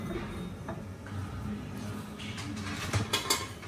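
A metal tempering ladle clatters and clinks among pots in a home kitchen while coconut chutney is made, with faint scattered metallic knocks and a few brighter clangs near the end.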